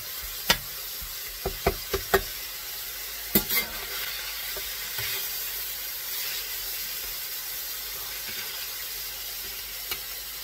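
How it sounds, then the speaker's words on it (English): Chorizo elk meat sizzles steadily in a cast iron skillet, with a few sharp clacks and scrapes of a spatula stirring and breaking up the meat early on, then a constant quiet frying hiss alone. "So I will just keep on cooking it and stirring it"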